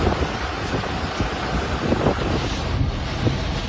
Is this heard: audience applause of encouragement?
no